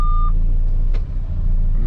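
A single high electronic warning beep from a Freightliner Cascadia or Kenworth W900L truck cab sounds briefly near the start, loud and clear over a steady low engine drone.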